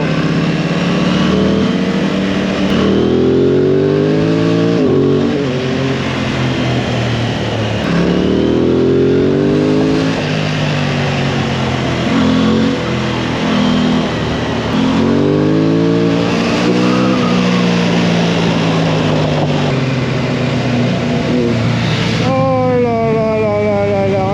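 A motorcycle engine revs repeatedly on a sunny Guadeloupe ride, rising and falling in pitch as it accelerates and shifts, loud and close throughout.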